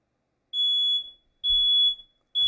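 A smoke alarm sounds three loud, piercing electronic beeps in a steady repeating rhythm, close by with near silence between them.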